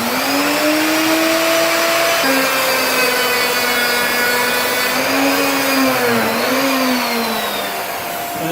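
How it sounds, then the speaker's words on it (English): A loud vacuum cleaner runs continuously during cabinet door and hinge installation, with a steady whine that dips and shifts pitch partway through, no voices over it. "Yuta has a vacuum cleaner going for me."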